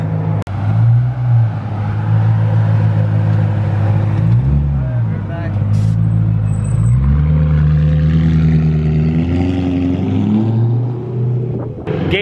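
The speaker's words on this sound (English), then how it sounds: "but his car is loud." Loud BMW M3 accelerating away from a warehouse: a deep engine note climbs through repeated rising revs, dips between shifts, then pulls hard again, close and dominant throughout.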